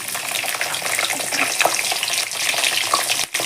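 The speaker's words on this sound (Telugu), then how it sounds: "ఆయిల్ హీట్ అయింది ఇందులోకి మనము ఆవాలు జీలకర్ర కాస్త పచ్చిమిర్చి" Mustard seeds, cumin and green chilli sizzle loudly and steadily in hot oil, with faint stirring scrapes underneath.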